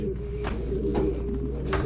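Racing pigeons coo softly and repeatedly in a breeding loft over a steady low background hum, their throaty calls rising and falling close by.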